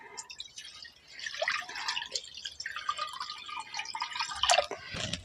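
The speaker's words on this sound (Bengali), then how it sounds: "জল দিয়ে দিচ্ছি।" Water is poured into an iron wok set on a stove for steaming, a soft, continuous splashing trickle with a few brighter drips, faint and close, without talk.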